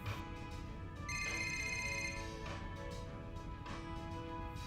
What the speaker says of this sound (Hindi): किसका फोन हो सकता है?